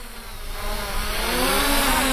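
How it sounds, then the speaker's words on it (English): Brushless 1806 motors on an MJX Bugs 8 racing quadcopter running on a 2-cell battery, a steady high whine that rises and grows louder, heard close with no talking. "Now the Bugs has brushless motors"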